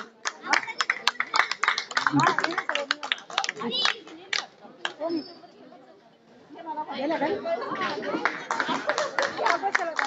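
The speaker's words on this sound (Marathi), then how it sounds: "सर्वांनी जोरदार टाळ्या वाजवायच्या।" An audience at an Ambedkar Jayanti celebration claps in dense, uneven bursts, fading out halfway and then rising again, with chatter and voices mixed in.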